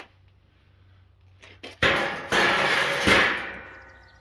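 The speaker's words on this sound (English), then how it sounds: "lift this metal cage off" A metal cage is lifted off a tractor three-point attachment for a Kioti CS2520, with a few knocks followed by loud, sustained metallic scraping and rattling close by.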